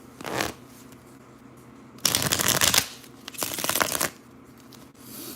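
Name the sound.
shuffling tarot cards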